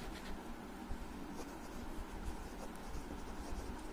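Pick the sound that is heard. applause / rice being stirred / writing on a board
writing on a board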